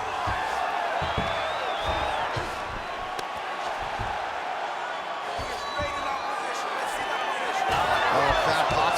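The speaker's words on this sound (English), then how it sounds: "crowd pops as she reverses position" Steady roar of a large arena crowd in the UFC 5 video game, rising as Mackenzie Dern and Amanda Ribas grapple on the mat, continuous and fairly loud with a swell of cheering near the end.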